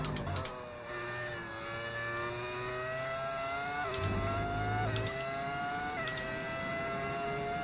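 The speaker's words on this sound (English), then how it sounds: "It's just called, like, V10 engine sound pack on overtake.gg." A V10 engine sound mod on an F1 car in the video game F1 25, a high-pitched whining engine repeatedly revving up through the gears with brief shift drops and sharp downshift blips.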